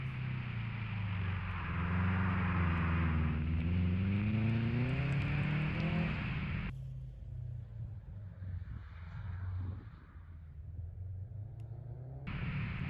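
A 2006 Subaru STi engine is held at full throttle through a winter autocross slide, droning loud with rising and falling pitch, then cutting abruptly to quieter road and tire noise before the engine roars back.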